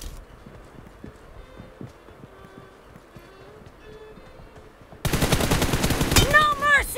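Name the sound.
gunfire in the video game BGMI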